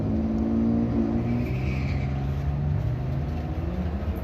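Drag racing cars, among them a 2001 Z28, launch down the strip with a loud, steady engine roar and rising revving tones.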